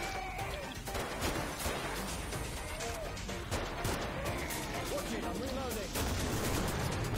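Heavy, hard-kicking gunfire from a high-recoil weapon in the co-op shooter Killing Floor, dense repeated blasts with crashing impacts and creature noises throughout, loud and close, with voices talking over the action.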